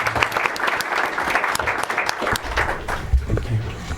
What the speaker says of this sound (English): Another round of applause. Go Foxes!